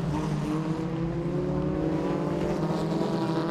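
Formula Ford 1600 race cars at Knockhill circuit crossing the line, a continuous loud engine drone with steady harmonic tones, heard from a distance without a clear pass-by peak.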